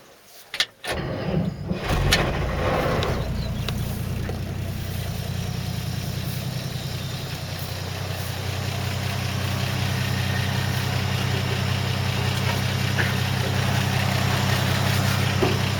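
A 1954 Chevrolet 3100 deluxe five-window pickup with factory Hydra-Matic transmission idles at close range: a brief clatter as it fires, then a steady, smooth, quiet engine rumble that holds evenly to the end, with no talking.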